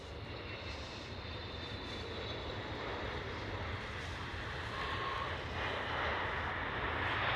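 An Emirates Boeing 777 lands at Schiphol with a steady, broad jet roar that builds gradually and is heard from a moderate distance, with no voices over it.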